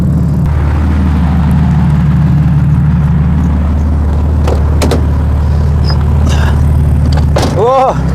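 A BMW E36 engine runs at steady, high revs on a test drive, a loud continuous drone that is slow to drop, with a brief rising tone near the end. Voices can be heard over the engine noise.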